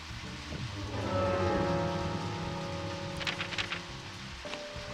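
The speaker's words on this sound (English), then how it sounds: "I can't hear you guys over the rain" Steady rain in the video game Deadly Premonition, a continuous close hiss of drops over a low tonal drone, with a few brighter splashy patters near the end.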